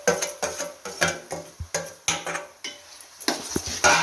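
Onions and onion paste with cumin and green chillies stirred in a pan for a mushroom masala gravy, a spoon scraping and knocking against the metal in a steady, close rhythm of repeated strokes.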